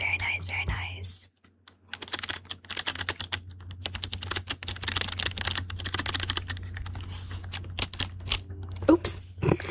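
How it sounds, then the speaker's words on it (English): Rapid clacking on a Pokémon-themed Razer RGB keyboard as many keys are pressed, with dense, uneven bursts of close, crisp taps. After a brief pause the typing continues steadily, with a soft whispering voice underneath. "I'm pressing a lot of buttons right now"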